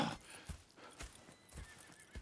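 Horse hooves clip-clopping in a steady rhythm close by, with a whinny and snorting mixed in, from the video game Red Dead Redemption 2.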